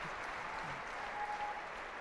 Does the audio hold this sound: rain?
no